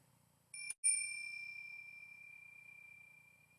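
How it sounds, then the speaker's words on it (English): A meditation bell is struck once, ringing out clear and bright after a brief knock, then sustaining a long, slowly fading tone in an otherwise quiet room. "as you hear the sound of the bell just ringing one time"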